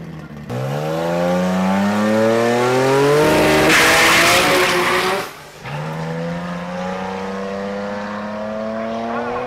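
A car makes its first pass on warmed tires with a loud, close engine roar that climbs through the gears, drops briefly and then rises again, with tire squeal mixed in.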